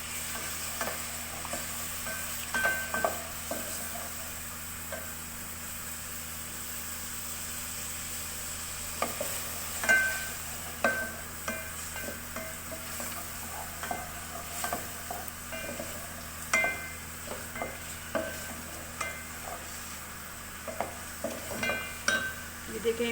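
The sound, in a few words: tomato frying in a pan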